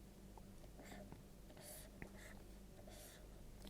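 Pen or marker scratching across a surface while an entity-relationship diagram is drawn, soft intermittent strokes over a low steady room hum, faint and close.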